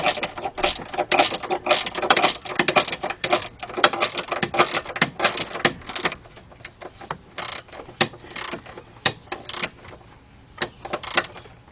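Rapid ratchet clicking in repeated bursts while a bolt is tightened during engine removal on a 2006 Kia Sportage 2.7 V6, close and fairly loud, with no talking.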